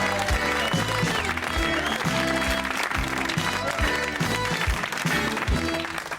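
A studio audience at the comedy variety show Vic Reeves Big Night Out applauds a guest's entrance, steady dense clapping running the whole time beneath a loud, rhythmic thumping band tune.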